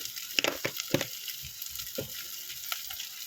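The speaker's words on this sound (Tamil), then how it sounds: "உப்பு சேர்த்தோம் அப்படின்னா வெங்காயம் வந்து நல்லா வதங்கும்" Onions sautéing in a pan with a little salt for a fish curry, giving a faint, steady sizzle broken by several soft scraping stirs.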